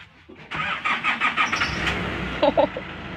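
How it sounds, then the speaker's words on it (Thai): A car engine revs up and runs nearby, rough and rumbling, with a couple of brief louder bursts before settling into a steady idle. "เสียงรถ"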